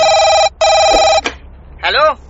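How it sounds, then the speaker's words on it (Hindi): A telephone rings twice in long electronic tones with a short gap, loud and close, then a brief click and a voice begins speaking. "उस कॉन्ट्रैक्टर का मुझे फोन आया"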